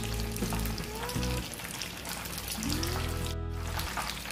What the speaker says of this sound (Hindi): फिश पॉपकॉर्न हमारे फ्राई हो गए हैं, अभी हम इसको ऑयल से निकाल लेंगे।